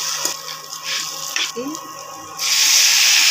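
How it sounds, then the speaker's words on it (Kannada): Roasted vermicelli frying in oil in a pan while cooking Kannada-style shavige upma at home: soft, intermittent sizzling that swells into a loud, steady hiss near the end, with a voice faintly present at points. "ಎಣ್ಣೆಯಲ್ಲಿ ಚೆನ್ನಾಗಿ ಫ್ರೈ ಮಾಡ್ಕೋಬೇಕು"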